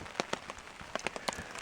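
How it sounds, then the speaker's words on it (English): Rain pattering at a riverside campsite on a canoe trip in Algonquin Park, scattered close drops tapping a surface in an irregular rhythm, light and steady with no voices. "The rain does seem to be dying down."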